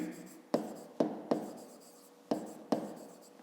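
A pen writes a math solution by hand on paper up close, with faint scratching strokes punctuated by five sharp taps as the pen lands, quiet and unaccompanied by speech.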